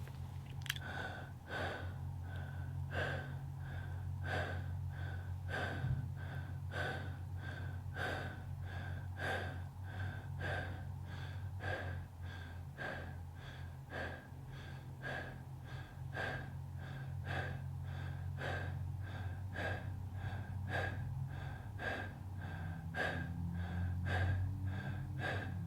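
Breathwork group taking 25 connected breaths together, a steady train of rhythmic inhale-exhale pulses, close and continuous, over a low sustained musical drone.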